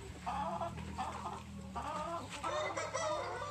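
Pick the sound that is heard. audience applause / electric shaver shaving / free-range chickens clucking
free-range chickens clucking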